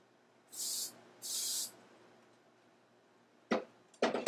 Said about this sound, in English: Make sure you have plenty of ventilation when you're spraying